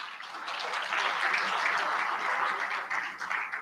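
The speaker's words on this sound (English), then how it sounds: "Big round of applause, guys." A crowd applauding steadily for several seconds, dense clapping that swells slightly and then tapers.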